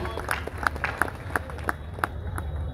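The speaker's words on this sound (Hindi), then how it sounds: "एक बार अगर उनके सम्मान में आप तालियां बजा दीजिए" Audience applause at a kavi sammelan poetry gathering at the Lakhimpur Kheri mela, a steady patter of many hands clapping with sharper individual claps standing out, moderately distant and continuous.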